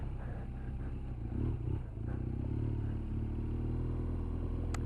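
A BMW R1200GS motorcycle rides off-road down a track, its engine giving a steady, throaty low drone with some clatter from the rough ground, close and continuous.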